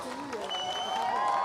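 A brief stretch of crowd applause and cheering at the finish area of a freeride ski competition in Val Thorens, steady clapping under a commentator's voice.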